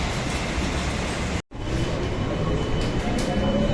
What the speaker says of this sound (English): We're inside the monorail now, and this station was Raja Chulan.